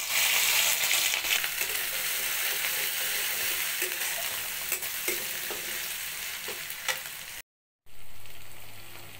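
Ginger, garlic and green chilli paste hits hot oil tempered with mixed white and black mustard seeds, giving a loud, steady close-up sizzle and spatter with scraping stirs, then a brief dead stop before the frying picks back up.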